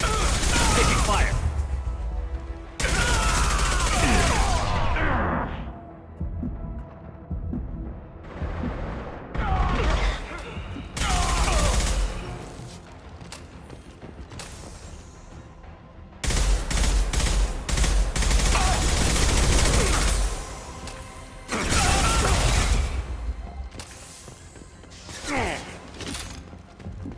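Repeated bursts of automatic gunfire in the Mass Effect 2 video game, loud and close, coming in long rattling volleys separated by short pauses, with booming impacts and game dialogue at times.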